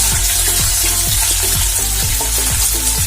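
Crushed ginger frying and being stirred in a pan of hot oil for a Kerala egg roast, with a loud, dense, continuous sizzle close by and a regular rhythm of spoon strokes, no talking.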